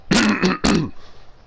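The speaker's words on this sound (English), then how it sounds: "got to clear my throat" Someone clears their throat twice in quick succession, close and loud, then it falls quiet.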